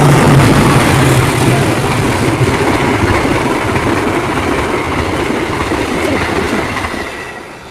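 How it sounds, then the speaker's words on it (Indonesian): A train rolls past near a station, producing a loud continuous rumble with rhythmic wheel clatter and a faint squeal early on, fading gradually toward the end. "Itu ada kereta itu."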